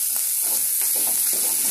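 Fish fry with capsicum being stirred in a pan: a steady hiss of frying under soft, repeated scraping strokes of the spoon, close and continuous.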